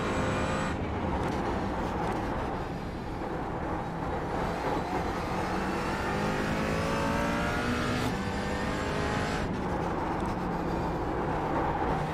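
A McLaren 570S GT4 race car in iRacing holds a loud, close, buzzing engine note that rises as it revs through the gears, with sharp shift breaks at intervals and no talking.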